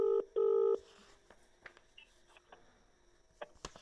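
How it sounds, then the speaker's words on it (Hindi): Telephone dialing tones from a phone call being placed at a press conference: a few short, loud DTMF beeps at the start, followed by faint handling clicks and taps. "मैं आपके सामने साहेब को फ़ोन लगा रहा हूँ।"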